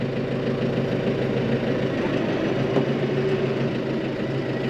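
A New Holland T4.65 tractor engine runs steadily at low revs while reversing in first gear, a continuous close rumble with a faint knocking texture and no change in pace.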